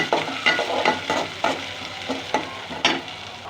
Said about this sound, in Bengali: এখন দিয়ে দিচ্ছি 2 কোয়া রসুন কুচি।